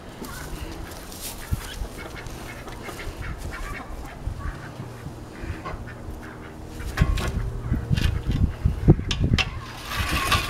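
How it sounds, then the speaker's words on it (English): Ducks quack and honk around a fenced pen, a busy flock calling near and far with rustling and movement, growing louder and more excited toward the end, while a person speaks briefly. "Oh, the ducks went in so bad already."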